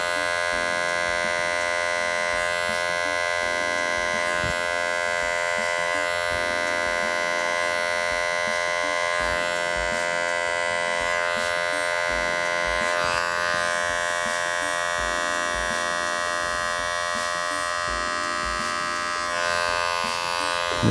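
Electric hair clippers with the taper lever pulled back hum in a steady, loud, close buzz while cutting a tight taper around the back of the neck and behind the ears, running continuously throughout.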